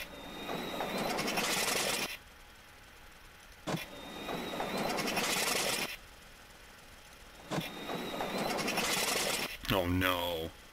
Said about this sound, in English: Now we do have all the engines on the front of the aircraft and two on the back.